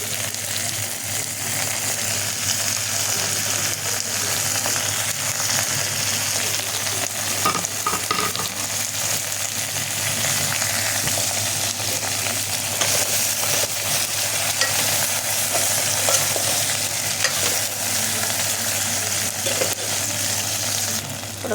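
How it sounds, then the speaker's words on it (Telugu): Okra pieces and green chillies fry in hot oil in a pan, a steady, loud, close sizzle running without a break, with occasional scraping as the mixture is stirred. "బెండకాయ ముక్కలు వేసి కలిపిన చూడండి."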